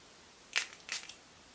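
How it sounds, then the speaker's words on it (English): Two quick, hissing spritzes from a Primavera organic lavender room spray pump bottle, close and crisp, about a third of a second apart in an otherwise quiet room. "I hope I didn't spray the camera."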